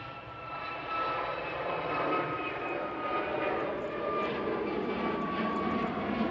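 A Ryanair jet plane departs Manchester Airport for Madrid, its engines producing a loud, continuous roar with a steady whine, heard from a distance and sustained throughout.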